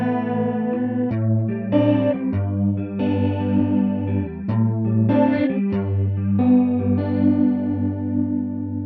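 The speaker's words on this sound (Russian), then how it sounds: "мы слышим хорус" An electric guitar played through a TC Electronic Dreamscape pedal set to chorus, its chords shimmering and wavering with a lush, modulated doubling. Several strummed chords and arpeggios ring out over about nine seconds at a steady, full level, with no voices.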